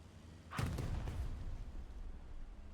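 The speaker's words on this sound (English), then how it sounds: "They're trying to use explosions off of the missed strikes as their own sort of smoke screen" Explosions from missed strikes in a D-Day scrim match of a video game, a deep booming blast followed by a second rumbling hit that fades into a sustained low roar.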